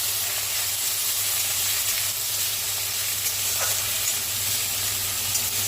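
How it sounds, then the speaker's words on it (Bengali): Ginger frying in coconut oil sizzles steadily and continuously in a home kitchen as banana-flower curry is cooked, a close, even hiss with faint stirring and no talking. "এবার আমি আদাটা একটু ভেজে নেব।"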